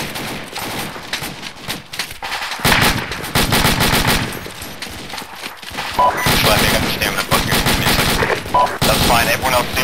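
Gunfire in the military video game Arma during a ShackTactical mission in an Afghan village, dense loud bursts of automatic fire and single shots continuing throughout, with voices talking over them.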